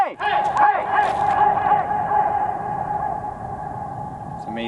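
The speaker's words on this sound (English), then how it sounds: "When you make a sound and a surface is far enough away that it returns that sound to you such that you hear it as a distinct occurrence." Shouted calls echo back from a far surface outdoors, a voice ringing out at the start and then trailing into a long, reverberant tail that fades slowly, with another faint shout at the end.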